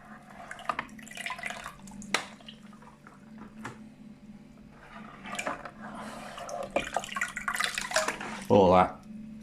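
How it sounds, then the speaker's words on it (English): Aquarium canister filter media is rinsed in a bucket of tap water, with scattered splashes, drips and sloshing, mostly close and moderate, while a person talks throughout. "basically I just rinse all that in the bucket"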